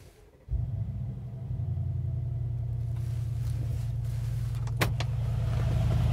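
A 2020 Mercedes G65 AMG V12 engine cranks and catches after a brief pause, then settles into a steady, deep rumbling idle close by, with a short sharp click near the end.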